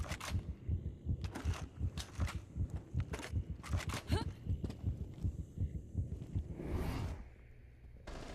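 An adrenaline surge effect in Rainbow Six Mobile thumps as a loud, steady heartbeat pulse of repeated low double beats, with gunshots cracking over it and a whoosh near the end before the pulse fades.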